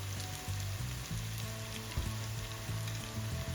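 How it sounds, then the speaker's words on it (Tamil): Onions turning golden as they sauté in a pan for chicken biryani, a steady close sizzle and crackle with soft rhythmic scraping as they are stirred, quiet and without talk. "இந்த வெங்காயம் வந்து நல்ல பொன்னிறமா வதங்கி வர தொடங்கிட்டது"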